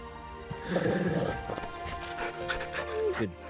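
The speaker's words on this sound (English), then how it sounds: "Good dog." Torgal the dog in Final Fantasy XVI giving short barks, yips and whimpers amid soft game sounds, with a person talking over much of it.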